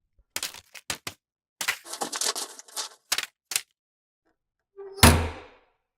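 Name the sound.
sound effect of mail slot opening and letters hitting floor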